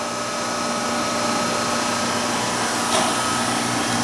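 Acrylic and polycarbonate sign vacuum forming machine with its vacuum system running, a steady, close, loud broadband roar with a constant hum and a brief hiss surge near the end.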